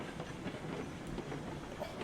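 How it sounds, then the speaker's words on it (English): A train runs steadily in the railroad simulation game Railroads Online, with a continuous rumble and faint clickety-clack of wheels on track, fairly quiet and without talk. "It's actually been a pretty interesting little train to run right here"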